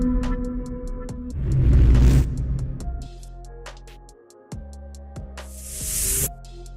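Whoosh sound effects sweep through in two surging bursts of broadband air noise, rising and falling over a layered tonal music bed with rhythmic clicks.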